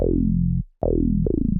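Dillard 2 808 acid bass from Cody's Essential kit, a very deep bass: two decaying notes with a short gap between them, then a third brighter attack at the end, loud and alone.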